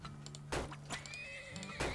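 A horse neighs in the strategy game Turmoil, a bright whinny at about half a second followed by shorter neighs and hoof clip-clops over a steady low game music drone, with no talking.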